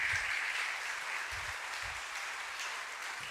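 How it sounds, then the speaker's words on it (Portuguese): Applause from a church congregation during an evening Sunday service, a dense sustained wash of many hands clapping together at moderate volume, slowly thinning toward the end. "Você pode, se desejar, dar uma salva de palmas bem forte para Jesus."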